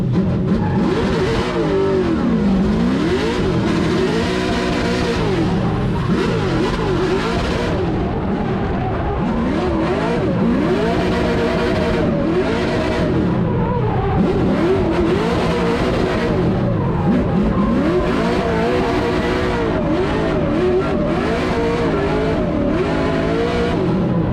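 Race cars at round five of the Klutch Kickers event rev and accelerate around the track continuously, engines rising and falling in loud overlapping waves with occasional tire skids.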